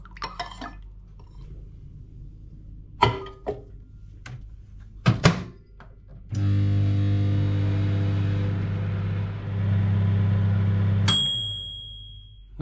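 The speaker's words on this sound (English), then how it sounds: "I'm going to pop this in the microwave and see if I can get it to dissolve further" A microwave oven heats a bowl of sugar syrup, opening with door clunks and beeps, then a steady low electric hum running for several seconds before ending in a sharp ding.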